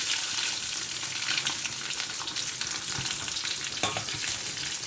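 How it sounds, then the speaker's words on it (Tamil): Banana blossom fry sizzling in a pan while a small ladle stirs it, a loud, continuous close crackle with scraping strokes and no talk. "சின்ன கரண்டி என்றால் தான் கொஞ்சம் இந்த வடிவா நுழைஞ்சி கிளறலாம்"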